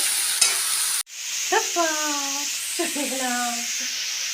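Ground spice paste fries in a pan with boiled cauliflower and potato, a loud steady sizzle with scraping stirs, while a voice speaks twice over the cooking.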